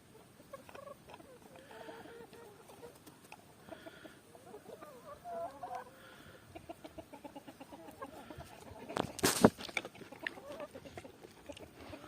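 Chickens cluck and chatter close by with scurrying, rustling movement, ending in a brief loud burst of scuffling noise.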